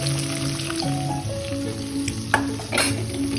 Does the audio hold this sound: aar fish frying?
yes